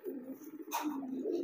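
Racing pigeon of the giring kind cooing nearby, a low steady throaty coo running through the whole moment with a brief brighter rustle partway.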